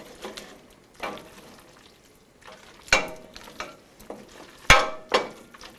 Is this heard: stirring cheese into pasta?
yes